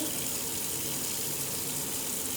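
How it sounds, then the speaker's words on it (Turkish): Tap water running steadily from a faucet into a sink while hands are rinsed under it, a constant close hiss and splash. "akan su altında durulanır"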